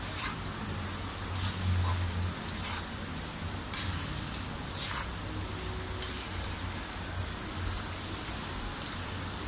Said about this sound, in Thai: ถ้าทอดหมูก็หมันคนบ่อยๆนะครับเพื่อทำให้หมูนั้น สุกทั่วถึง ทุกชิ้นนะครับ